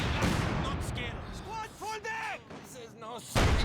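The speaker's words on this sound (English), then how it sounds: "Heavy mortar might have got a nice shot off on the Grenadiers" Heavy mortar shells fire and land in a Company of Heroes 2 2v2 match, with short booming bursts at the start and end under steady commentator talk.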